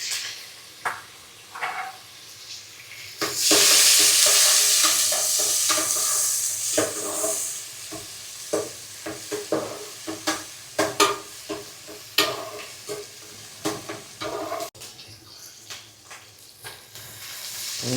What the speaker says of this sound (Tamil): கட் பண்ணி வச்சிருக்க வெங்காயத்தை போட போகிறோம். அதோடு சேர்த்து அந்த பச்சை மிளகாவையும் போட போகிறோம்.